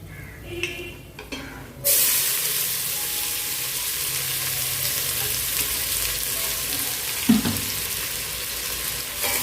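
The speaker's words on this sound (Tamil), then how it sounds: "வெங்காயம் வந்து நல்லா வதங்கணும். நல்லா ப்ரௌன் கலர் வர வரைக்கும் இந்த வெங்காயத்தை வந்து நம்ம வதக்கணும்" Chopped onions drop into hot oil with cardamom and cloves for chicken biryani, and a loud, steady frying hiss takes over after a brief scrape and holds with a spatula knock near the end.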